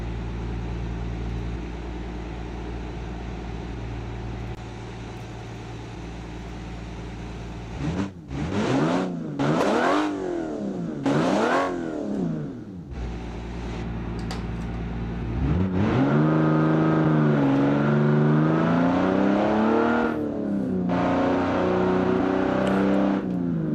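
Simulated inline-six car engine in the Automation game, steady hum then repeated sharp revs climbing toward 8,000 rpm, followed by a long sustained high-rpm drone; loud, close and with no talking.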